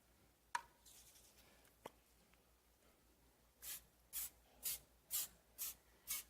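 Short spray bursts coat disposable baking tins in an RV kitchen, about five quick hisses in a steady rhythm close by, after a couple of light clicks and knocks.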